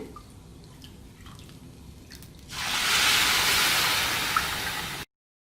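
A few quiet drips and clinks, then a steady rushing pour of two cups of water into a cooking pan with broken wheat for a couple of seconds before it stops abruptly.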